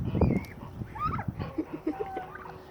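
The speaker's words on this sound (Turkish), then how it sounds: "Kazlarımız geliyor bu arada." Several geese honk and gobble nearby in a farmyard, a run of short uneven calls with brief gaps between them.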